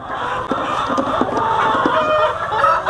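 Tiger breed hens on a poultry farm cluck and chatter nearby, with overlapping bursts from several birds forming a busy, continuous flock sound without talking.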